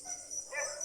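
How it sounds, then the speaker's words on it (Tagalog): A few short dog barks or yips, somewhat distant and thin, over a steady outdoor hiss. "Kaya tumatawol yung mga aso."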